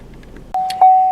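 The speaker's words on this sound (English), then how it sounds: "this chime is so loud it's going to blow your eardrums out, a common trait on GMC trucks" Inside a 2015 GMC Canyon truck cabin, a loud warning chime sounds: two sharp electronic tones in quick succession, each leaving a steady ringing pitch that sustains, close and piercing after a few faint clicks.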